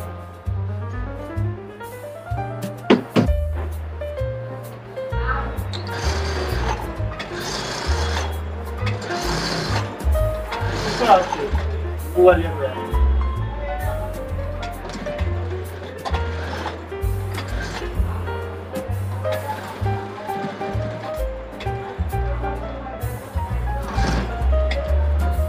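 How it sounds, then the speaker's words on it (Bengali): A sewing machine runs pressure stitching along the side seam of a shirt, in rhythmic bursts of fast mechanical stitching separated by short pauses and handling noises, loud and close. "দুই সাইডে একই নিয়মে আমরা চাপ সেলাইটা তৈরি করে নিলাম।"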